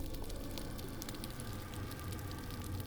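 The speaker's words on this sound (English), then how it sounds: "even the sounds of the tiny plankton creatures add up to a respectable crackling noise" Tiny plankton creatures in the deep ocean adding up to a dense, steady underwater crackle, faint and continuous like fine sizzling, with no voices.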